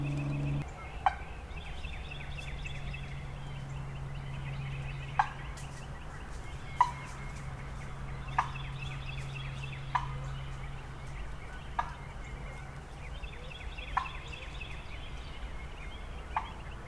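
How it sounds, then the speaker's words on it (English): Quiet outdoor air in Georgia with a wild turkey gobbling several times, sharp distant calls spaced a few seconds apart, and a low hum early on. "It just gobbled."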